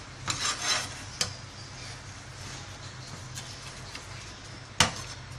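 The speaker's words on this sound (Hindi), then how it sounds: "अब अच्छे से इसके अंदर इसको मिक्स करेंगे हम" A spoon scrapes and rasps around a pan while coconut burfi mixture is stirred, with a few sharp metallic knocks against the pan's side, the loudest near the end, over a low steady background hum.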